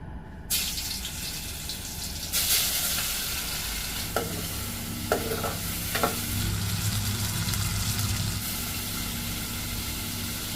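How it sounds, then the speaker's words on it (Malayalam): Fish pieces frying in a pan of hot oil left over from tempering curry leaves, giving a loud continuous sizzle close by, with a few sharp clatters of a utensil partway through. "ഇനി നമുക്ക് ഈ ഒരു സെയിം എണ്ണയിൽ തന്നെ മീനൊന്ന് വറുത്ത് കോരി എടുക്കാം"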